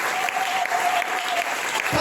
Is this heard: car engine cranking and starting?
no